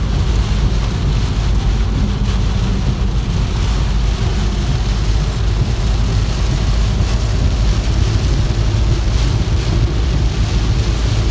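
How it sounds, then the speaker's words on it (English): Dense, constant roar of heavy rain drumming on a moving Hyundai Alcazar diesel, blended with road and engine rumble, loud and unbroken throughout. "So as of now outside it's heavily raining"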